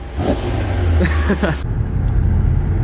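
A Mercedes E63s engine roars loudly up close, its deep rumble swelling into a brief rev before settling back to a heavy idle.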